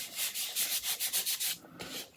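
One-inch-wide tape is rubbed down onto foam board in a quick series of about ten soft, rhythmic swishing strokes, close and fairly quiet, ending in a few looser rubs.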